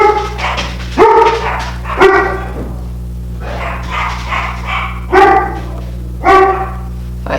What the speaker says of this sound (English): If you hear my dogs, I think UPS is here.